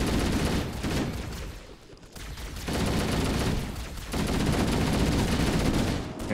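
Dense automatic gunfire in the video game Halo: Combat Evolved, continuous loud rattling bursts with a short lull before resuming, filling the whole stretch with no clear speech.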